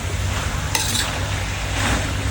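Spicy wild boar stir-fry with chilies and aromatic leaves being stirred in a hot pan, a steady close sizzle with scraping and clinking of the utensil against the metal, no voices.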